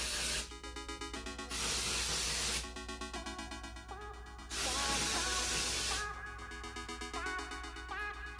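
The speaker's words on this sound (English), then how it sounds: "spray it on your hair." Long hissing bursts of hair product from an aerosol can, three sustained sprays separated by short pauses, close and loud over faint background music.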